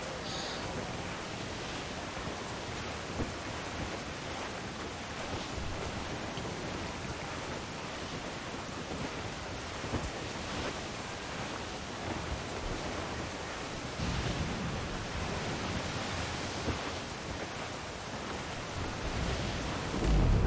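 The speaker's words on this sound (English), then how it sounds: "stormy weather" A stormy sea in the Assassin's Creed IV: Black Flag game: a dense, continuous roar of wind, rain and surf with low rumbling swells, steady and loud throughout, no voices.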